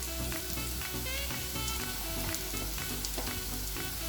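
Vathal and four dried red chillies fry in hot oil, a dense, steady crackling sizzle that runs unbroken and close throughout, with no talking.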